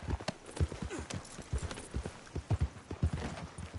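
A horse's hooves clip-clop steadily in Red Dead Redemption 2, a close, moderately quiet walking rhythm.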